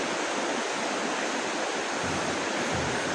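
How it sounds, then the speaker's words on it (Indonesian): A fast-flowing river near the Gajah Mada Tapak Gajah site gives off a steady, loud broadband rush of water, continuous and unbroken throughout with no voices. "karena memang aliran sungainya cukup lumayan deras ya"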